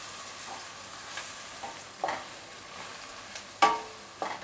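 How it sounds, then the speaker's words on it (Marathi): Green chili, ginger and garlic fry in a pan with a soft, steady sizzle, punctuated by several distinct spatula scrapes and stirs at irregular intervals, heard up close with no voices. "चला आता आपण हे सर्व साहित्य ना परतून घेऊया"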